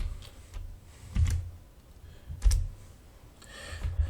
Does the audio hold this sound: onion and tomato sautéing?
no